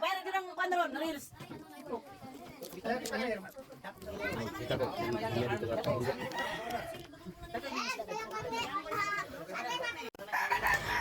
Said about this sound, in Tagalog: ang farm ng mga manok na pangsabong